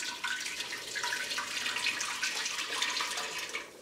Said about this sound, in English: I'm going to pour up enough broth that I think I will have 7 quarts